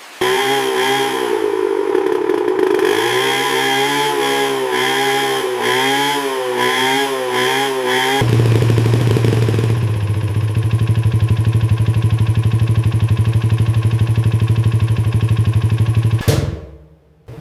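A sputtering motorcycle engine runs loudly close by, first with an uneven, wavering rattly tone, then settling into a steady low rumbling idle before cutting off abruptly.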